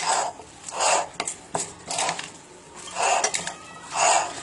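A spoon stirs and scrapes through spiced gol gappa filling in a bowl, making rhythmic swishing and scraping strokes with occasional knocks against the bowl, close up and without talk.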